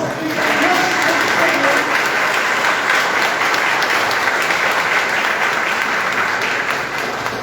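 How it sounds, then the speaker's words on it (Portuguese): Sustained audience applause fills a hall during a ceremony honoring members of the Instituto Histórico e Geográfico de Barroso, loud and steady clapping from start to finish. "A salva de palmas."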